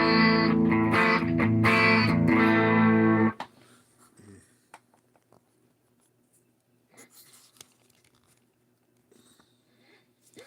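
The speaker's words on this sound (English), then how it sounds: "So here would be just the amp with its crunch sound" A loud, distorted guitar amp crunch rings out in thick chords for about three seconds, then cuts off, leaving faint taps and low hum.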